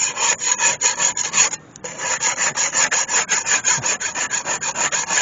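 A painter's multi-tool scrapes clogged soil off a garden spade in quick, rhythmic rasping strokes, loud and close, with one brief pause before the scraping resumes.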